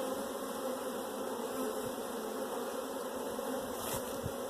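Honeybees buzzing continuously and closely around an open hive during an inspection, a steady droning hum with no voices.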